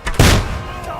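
A single close, heavy gunshot in Kingdom Come: Deliverance 2, a sharp blast that rings out briefly and fades within a second, with voices nearby.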